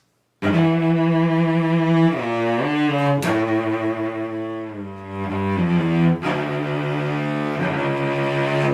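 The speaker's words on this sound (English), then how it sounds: "whenever I hit the instrument as hard as I can," A loud, sustained instrumental tone with a sharp attack, ringing richly and shifting pitch a few times before renewed hard hits.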